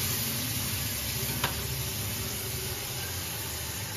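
Whole garam masala, garlic juice, onion juice and ginger juice sizzle in hot oil for chicken dum biryani, a steady, close hiss throughout with one small tap of a utensil partway through.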